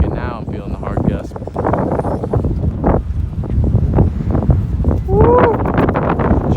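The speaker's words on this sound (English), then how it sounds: "Okay, now I'm feeling the hard gust." Strong gusts of 40 mph wind roar steadily through trees outdoors, a constant heavy rushing with microphone buffeting, loud and close throughout, with a person talking over it.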